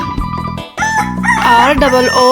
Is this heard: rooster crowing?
yes